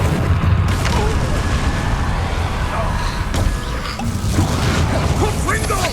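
Hogwarts Legacy combat with the Confringo fire spell: dense, loud blasts and crackling impacts layered over clanking mechanisms and other noise, with voices mixed in.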